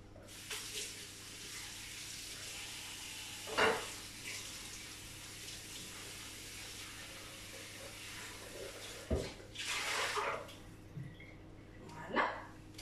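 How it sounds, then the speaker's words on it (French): Water from a tap running over the base of a cooking pot in a home kitchen while roasting Provençal peppers, a soft steady rush with a few splashes and clatters, recorded fairly quiet. "Donc je vais juste rincer la base"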